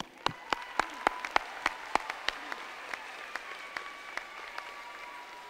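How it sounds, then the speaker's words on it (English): Sparse, sharp claps ring out at a high school commencement for the graduating class of 2019, a handful of distinct hand strikes over room ambience, thinning out rather than building into full applause. "Give them a round of applause real quick"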